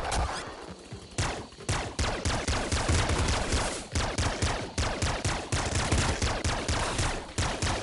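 Rapid, sustained gunfire in the video game Nuclear Throne, a dense stream of punchy synthetic shots in quick rhythmic bursts with brief pauses, loud and continuous over about eight seconds.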